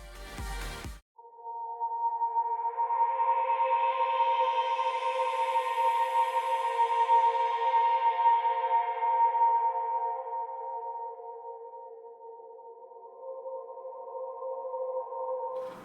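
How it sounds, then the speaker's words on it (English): A sustained synth tone rings out with reverb, an automated low-pass filter gradually dulling its brightness as the sound smoothly fades, with a short burst at the start. "just before that reverb I put a low pass or a high cut, and I automate that to create these smooth fade outs"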